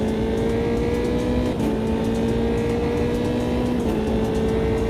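A McLaren P1 GTR mod race car in Automobilista 2 holds a loud, steady engine drone with a sustained tonal whine, shifting pitch only slightly across a few seconds at constant speed.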